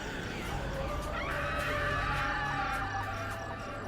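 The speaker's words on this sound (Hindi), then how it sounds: "तभी काली पहाड़ी पर चीखने चिल्लाने की आवाजें आने लगी।" Screams and shouts ring out from a dark hill in a horror tale about a yakshini, a dense, continuous wall of distressed cries with no break over a steady low rumble.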